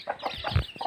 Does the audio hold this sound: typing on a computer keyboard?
no